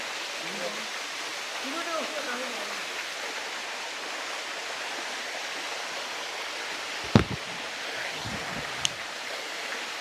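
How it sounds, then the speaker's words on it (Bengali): A waterfall at Ghatshila spills down a rocky hillside, giving a constant hissing roar. Faint murmurs rise in the early part of the clip, and a sharp click or knock stands out near the end. "আপনাদের ঝর্ণাটা একটু জুম করে দেখাই।"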